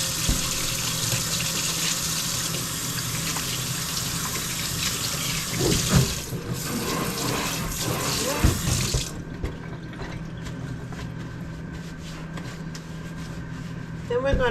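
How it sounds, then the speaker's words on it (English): Tap water runs steadily into a kitchen sink during hand washing, a loud hiss that cuts off partway through, leaving quieter clatter and room noise afterward. "I'm gonna wash my hands."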